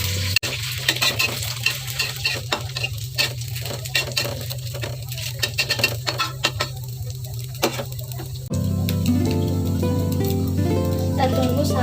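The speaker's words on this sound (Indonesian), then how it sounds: "Jangan lupa diaduk-aduk." Sausage and corned beef fry in a pan while being stirred, with repeated scraping strokes over a constant sizzle that grows louder and fuller near the end. A voice talks briefly.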